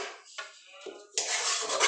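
Koi fish is mixed with a cooled paste of coconut, mustard, poppy seed, yogurt, green chili, salt and sugar in a dish, giving a close scraping and clinking of a utensil against the bowl in uneven strokes.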